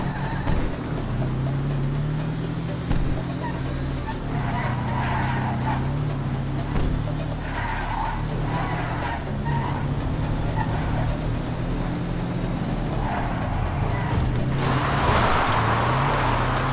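A car engine drones steadily at close range through a driving sequence in a video game, with shifting revs and faint tire noise, no talk over it.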